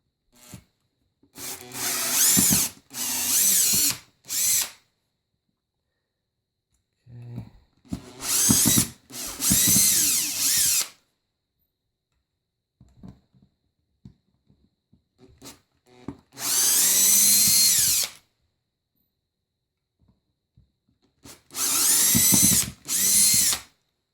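A power tool drives out screws while a standard Fender bass bridge is removed, sounding as several loud, whirring bursts of a second or two each, separated by silent gaps and faint handling clicks.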